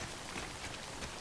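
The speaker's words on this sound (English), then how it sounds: "because it's barely raining" Light rain in the video game Death Stranding makes a dense, even hiss with soft patter, steady and unbroken over a brief moment.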